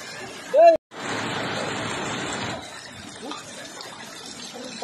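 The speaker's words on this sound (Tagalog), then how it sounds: "at dahil na umuulan" Steady broadband hiss of rain falling, continuing for a few seconds after a brief voice at the start, then softening slightly.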